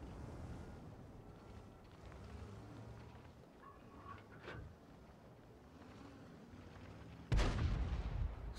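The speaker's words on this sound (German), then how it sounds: "So, da wurde geschossen." A tank cannon in World of Tanks fires once near the end, a loud, sudden blast with a roaring tail, after a stretch of low engine rumble and wind-like game noise.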